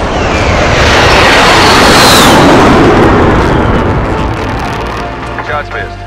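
Artillery strike explosions in a Warzone video game, one heavy sustained blast roar that swells loudly and rolls on before fading into a rumbling tail.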